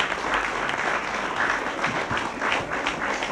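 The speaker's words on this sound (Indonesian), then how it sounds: "Tepuk tangan." Audience applause at a televised comedy show, a dense, steady clapping that carries on for a few seconds with no voices over it.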